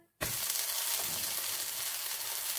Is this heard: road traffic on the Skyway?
no